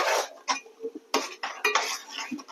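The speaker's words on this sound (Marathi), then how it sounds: "ढवळते कारण ते बुडाला नाही लागावं म्हणून" Crab curry being stirred in a pot, a series of close metallic scrapes and clinks of a spoon against the pot, irregular and fairly loud, with no talk over them.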